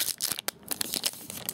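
A foil Pokemon Black and White booster pack is torn open up close, giving a run of sharp crinkly ripping and rustling bursts with no talking.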